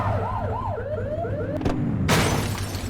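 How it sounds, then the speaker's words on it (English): A police car siren blips in The Precinct video game: a short wailing warble that rises and falls a few times, then cuts off, followed by a loud burst of noise, with an engine drone underneath. "Get on their tail and blip the siren."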